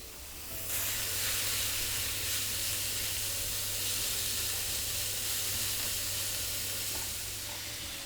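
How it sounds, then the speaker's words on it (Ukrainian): Minced meat sizzles steadily in a hot pan with fried onions, a dense, continuous frying hiss with a low hum beneath, close and fairly loud throughout. "Смажимо, поки більшість вологи не вийде"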